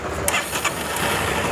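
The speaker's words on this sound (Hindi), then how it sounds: "और अब हम इस बाइक को करते हैं स्टार्ट।" A fuel-injected Hero ZMR motorcycle engine cranks briefly and catches, settling into a steady close idle with no talking.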